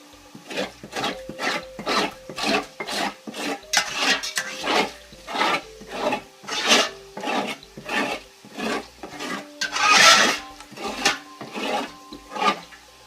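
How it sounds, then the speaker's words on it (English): Rhythmic scraping of a utensil across the bottom of a pot of beef stew with reducing wine, about two dozen close, repeated rasping strokes with faint tonal ringing, no talking. "we want to scrape the bottom and get off all those good tasting bits"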